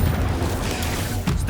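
A fire spell being cast in the Hogwarts Legacy video game, a dense whooshing burst of flame and magical rumble that swells loudly, with a brief sharp flare near the end.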